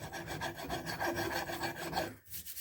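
A hand file rasps back and forth across a wooden rifle stock in steady, close strokes that stop abruptly near the end.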